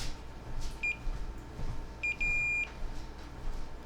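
Short electronic beeps from a multimeter in continuity mode as probes touch points on a faulty computer motherboard: one brief beep, then a pair with a slightly longer tone, thin and clear over low room hum.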